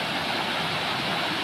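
Geelong waterfall near Melbourne, a wide, low flow of water released along one side only, gives a steady, close, full rushing wash that carries on without a break.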